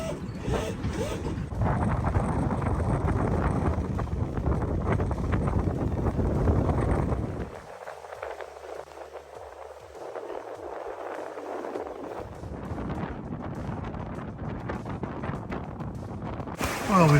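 Steady wind roaring over a sailing catamaran at sea, loud and broadband for most of the stretch, easing into a calmer lull midway before the gusty rush builds again toward the end.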